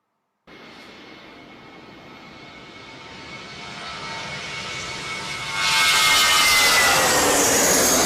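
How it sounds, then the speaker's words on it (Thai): A jet airplane roars in close, its broadband rush swelling steadily louder until it peaks in a loud, hissing blast overhead. "เป็นเสียงของเครื่องบินระยะใกล้นะครับ"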